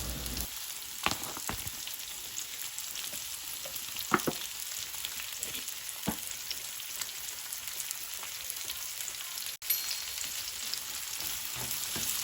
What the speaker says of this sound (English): Now that our ghee has finally warmed up, we're going to start placing our cut up onions into our saucepan.